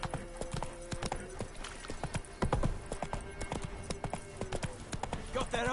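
Hooves of a horse galloping in the video game Witcher 3 beat in a fast, steady clip-clop rhythm, loud and close, with occasional other game sounds mixed in.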